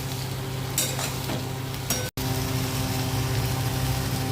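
Okra and capsicum with salt and turmeric sizzle steadily in a pan, a continuous close frying hiss with occasional stirring scrapes and a brief cut near the middle.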